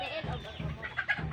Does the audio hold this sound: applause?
no